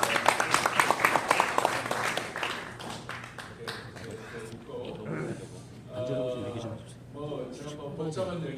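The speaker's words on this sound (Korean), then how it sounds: "박수로 환영하십니다" A crowd applauds with sharp rhythmic claps that fade after a couple of seconds, then someone speaks over a murmuring room.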